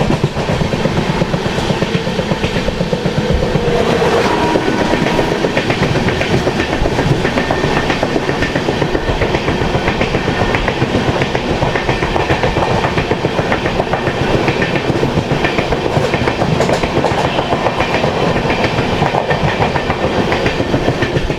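A Danapur–Secunderabad superfast train runs past near Pangidipalli junction, its loud continuous rumble and rapid clickety-clack of wheels on rail joints filling the whole span without pause.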